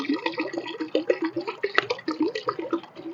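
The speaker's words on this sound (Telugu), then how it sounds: "ఈ కొబ్బరి నీళ్లు కూడా ఇందులో పోసేసుకుందాం" Coconut water from a tender coconut glugs and splashes as it is poured into a homemade garden fertilizer mix, a close, steady gurgling stream with rapid bubbling pulses.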